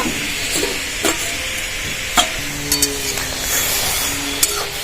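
Vegetables are stirred in an uncovered pan, with a steady low sizzle, scraping strokes, and occasional light metallic clinks against the cookware.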